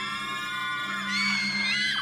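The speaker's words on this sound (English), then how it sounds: "several of the children scream." A group of children scream together in a dark school hall, a loud, sustained chorus of high voices that swells louder toward the end over a steady background hum.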